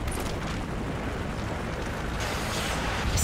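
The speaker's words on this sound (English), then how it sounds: "Friendly Predator missile inbound." A Predator missile strike in Call of Duty Modern Warfare 3 multiplayer Domination, heard as a steady, dense roaring blast that fills the whole stretch with no break and no talking.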